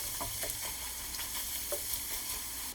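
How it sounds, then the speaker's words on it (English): Chopped meat sauce for Greek-style pasta bubbles steadily in a pan over low heat, a continuous soft sizzle with a few faint clicks and pops, heard alone. "Now we can bring the temperature to low and let it simmer for a few minutes"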